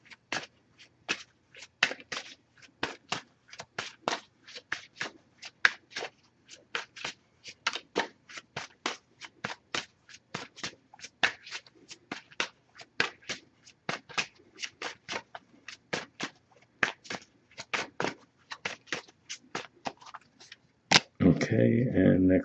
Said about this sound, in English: I'm just going to pull a single card from this deck.